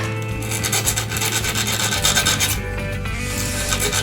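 Steady rasping of a hand file working the dimples on a piston from a Honda CD50 engine, continuous close strokes over several seconds with no talk.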